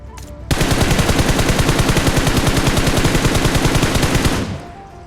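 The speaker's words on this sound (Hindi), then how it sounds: "इस पे मैं शॉट्स लेने का ट्राई करता हूँ।" Automatic gunfire aimed at a hovercraft in the video game PUBG: one loud, close burst of rapid shots lasting about four seconds, then cutting off, with no talking.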